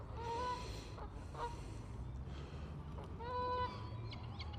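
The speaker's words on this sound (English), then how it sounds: "And the swans, there's the swan." A swan at a park pond gives a few nasal honking calls, two clear bursts with quieter ones between, heard at moderate distance over a low outdoor rumble.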